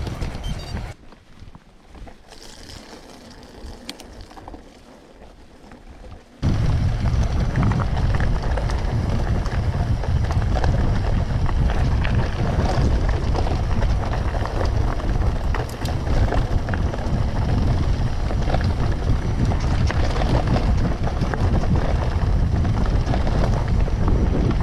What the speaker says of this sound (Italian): C'è giusto un filo di vento.